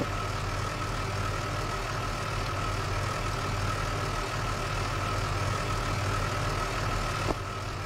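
A fire engine idles in a firefighting video game, a steady low rumble holding unchanged throughout with a slight click near the end, and no one speaking over it.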